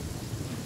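Steady rain with low rumbling thunder from a rainstorm in the video game Genshin Impact, a short, even wash of noise that stays level throughout with no speech over it.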